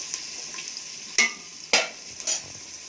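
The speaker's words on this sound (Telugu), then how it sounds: "ఆనియన్స్ ఎక్కువ ఎగరాదు. ఇప్పుడు వేగింది, చాలు." Onions frying in a pan sizzle softly while a spoon stirs them, giving a few sharp scraping strokes over the hiss with no talking.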